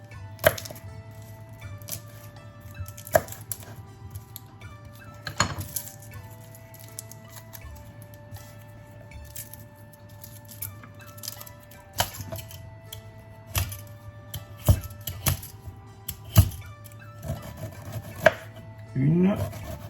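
Knife slicing peeled ginger into slices on a cutting board, sparse sharp chops spread across about twenty seconds and quickening near the end, close and clear over a low kitchen hum.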